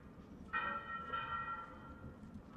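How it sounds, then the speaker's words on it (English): Church bells ringing at 11:03 in Malaga, Spain, in January: a steady sustained metallic tone with two swells, heard at moderate distance over outdoor street ambience. "Oh, the bells are going."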